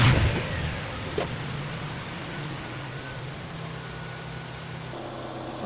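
A Mazda Miata engine with a newly fitted Gates timing belt idles steadily, a low, even hum with a faint mechanical tone, fairly quiet and smooth with no other voices.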